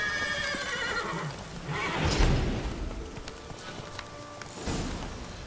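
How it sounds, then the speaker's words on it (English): A wild horse in The Witcher 3 gives a loud, drawn-out whinny over soft hoof clip-clops, followed by a rumbling snort and a second shorter neigh, with no talk. "Come on, wild horse."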